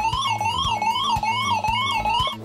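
A DSC VHF marine radio alarm sounds loud and alone: a warbling electronic tone that sweeps up and down in steady repeating cycles, with rapid pulsing beneath it, continuous for a few seconds.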